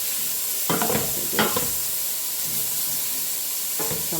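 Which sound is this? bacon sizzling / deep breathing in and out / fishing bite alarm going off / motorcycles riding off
bacon sizzling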